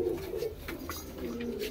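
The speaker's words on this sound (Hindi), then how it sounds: "एक कबूतर ये छोड़ा है लाल चीना, सफेद आंखों का है भाई।" A red Chinese pigeon with white eyes coos softly, a low repeating throaty call heard faintly and alone over quiet background.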